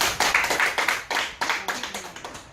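A group of students claps in a classroom during a debate, a dense round of applause that keeps up steadily for a couple of seconds before tapering.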